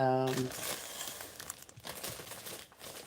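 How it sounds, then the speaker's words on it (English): A cellophane gift bag crinkles briefly and crisply at close range, a short burst of rustling with a few softer crackles as it settles. "I just dropped it in a cello bag"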